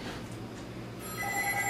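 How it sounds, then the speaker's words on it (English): A telephone starts ringing in a home kitchen, a pulsing electronic bell tone beginning partway through and repeating steadily over a low room hum. "Oh yeah, there's the phone."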